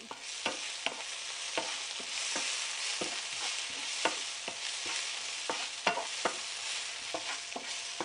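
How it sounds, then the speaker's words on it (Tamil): Green chillies sautéing with ginger and garlic in hot oil, a steady close sizzle broken by regular scraping knocks of a spoon stirring the pan for idli-side vada curry. "ரெண்டு பச்சை மிளகாய் வச்சுருக்கோம் அதையும் போட்டு கொஞ்சம் வதக்கலாம்"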